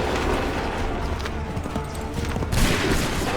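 Musket volley fire in the Assassin's Creed III video game, a dense continuous crackle of gunfire with a sharper burst near the end, loud and steady throughout.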